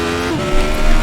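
A Radical SR8 race car in iRacing at Bathurst Mount Panorama, its engine buzzing loud and close under throttle with a slight swell as the power is modulated.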